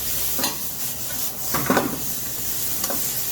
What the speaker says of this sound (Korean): 당근을 살짝만 익으면 됩니다. 이것도 마찬가지로 약 30초 정도 볶았습니다